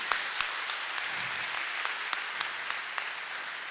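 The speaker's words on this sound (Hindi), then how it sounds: "रियली जोरदार तालियां उनके लिए फ्रेंड्स," Applause from an audience at a Forever Living India recognition event, moderately faint and steady, with a few sharper individual claps standing out from the even clapping.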